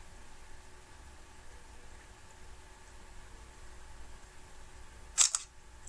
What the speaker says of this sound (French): Je vais prendre ma photo et je publierai ma photo sur Facebook.